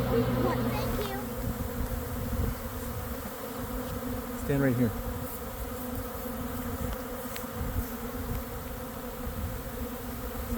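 A swarm of honeybees arrives at a nucleus hive, a dense, steady buzzing drone that fills the whole span, with a person speaking briefly near the start.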